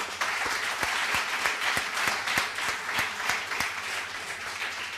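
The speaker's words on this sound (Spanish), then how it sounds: "Le damos un aplauso de bienvenida" A church congregation giving a welcoming round of applause, a crisp, close cluster of claps with some distinct individual hits standing out over the steady clapping.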